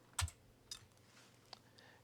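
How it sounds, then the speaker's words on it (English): A few isolated computer keyboard keystrokes while typing in the Vim text editor, sparse and spaced out over a couple of seconds, faint against a quiet room hum with no talking. "if I just started typing, see how, none of the letters that I was typing happened?"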